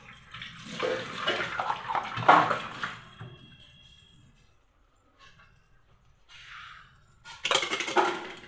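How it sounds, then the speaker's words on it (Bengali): A dress is washed by hand. Bursts of splashing and running water come in short rough pulses, then a near-silent pause, then a brief softer rinse and a final loud splash. "সেই জামাটাকে ধুবো, ধুয়ে"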